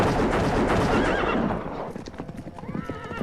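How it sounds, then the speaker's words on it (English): Horses whinny and hooves clip-clop loudly in a close, busy burst at night outdoors, the clatter thinning into scattered hoof sounds and a high neigh toward the end. "Something scared off the horses."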